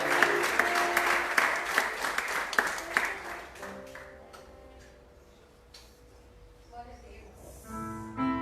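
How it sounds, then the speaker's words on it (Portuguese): Church congregation during a Sunday celebration service claps loudly at first, the applause thinning and fading after a few seconds as sustained keyboard or organ tones take over, with a brief voice near the end. "Se você quiser aplaudir o Senhor"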